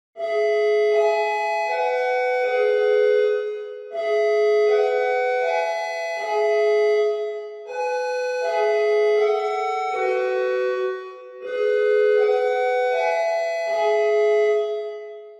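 SiraTone dual tone Westminster chime siren sounding its stepped melodic sequence with reverb added, notes smeared and overlapping into one another across about four loud repeated phrases, no other sounds.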